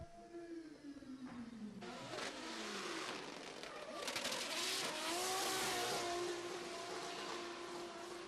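Drift car at a drifting championship in Oman revs hard through a competition run, engine pitch climbing and falling with tire squeal, heard from a distance amid a crowd's wash of noise.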